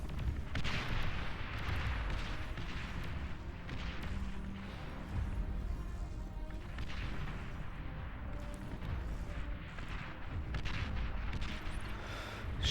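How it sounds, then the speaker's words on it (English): Dense, continuous artillery fire from Beyond All Reason, a real-time strategy game with a large 8v8 battle on the front lines, produces a steady rumble of overlapping booms and blasts that stays loud throughout. "Putting so much artillery into this"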